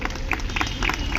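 Crowd applause greeting the inauguration of water projects by Delhi's chief minister and water minister: a short, dense burst of many hands clapping steadily at moderate loudness.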